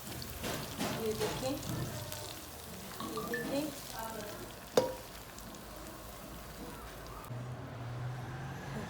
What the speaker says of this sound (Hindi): इसके ऊपर हम डालेंगे ये मज़ेदार से तड़का।